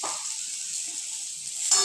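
Eggplant with salt and turmeric frying in hot oil, a steady soft sizzle holding level throughout with a brief scrape near the end.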